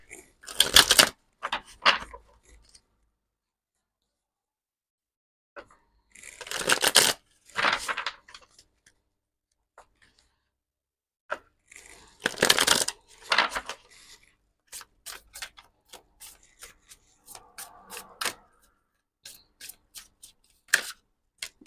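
Animal oracle and angel of light cards are shuffled by hand in short, intermittent bursts of papery rustling and flicking, with quiet gaps between.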